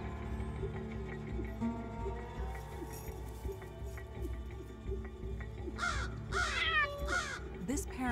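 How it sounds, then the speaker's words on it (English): Crows give warning caws, a cluster of harsh calls near the end, heard under a steady narrating voice and a low background drone. "Crows have different warning calls"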